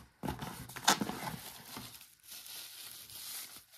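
Packaging crinkles and tears as the jacketed FX harmonic barrel tuner is unboxed, a close burst of rustling that fades into quieter handling.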